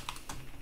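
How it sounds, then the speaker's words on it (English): Three or four quick keystrokes clack on a Logitech computer keyboard, close and fairly quiet, with no talking. "a new keyboard. Because this has like a weird sound, doesn't it?"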